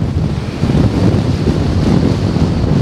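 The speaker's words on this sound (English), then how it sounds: "It's probably 20-mile-an-hour winds, I reckon." Strong wind roars steadily against the microphone, a loud continuous low rumble that barely lets up, with no voices.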